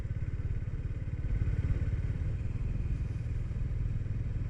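A Honda GB350S motorcycle engine thumps steadily while riding, its low pulsing single-cylinder beat continuous and close, with wind and road noise layered underneath and no talk.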